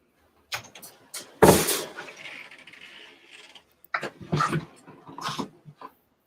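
A dog whimpers and whines in short, broken bursts close by, interspersed with quiet shuffling and a few soft thumps, with a person speaking briefly nearby.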